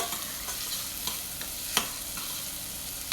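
Onions stirred and frying in a pot for an Emilia Romagna vegetable soup, a soft, steady sizzle with a few scraping clicks from the spoon, fairly quiet and without talk.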